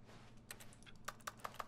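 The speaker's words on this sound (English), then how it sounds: "What is the clicking, though?" Clicking in the video game The Stanley Parable comes through as a quiet series of sharp, dry clicks, a few scattered early and then four crisp, evenly spaced ones near the end, over a faint room hum.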